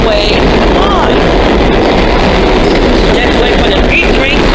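Subway trains rumbling out of Hoyt Street station on the Eastern Parkway line, a loud, steady low roar with faint squeals, continuous throughout.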